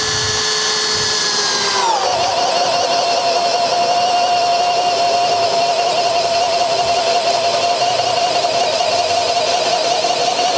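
A Makita drill runs in drill mode at speed 1, boring with a 2 1/8 inch bit: a loud, steady motor whine that dips in pitch after about two seconds as the bit bites, then holds an even grinding drone to the end.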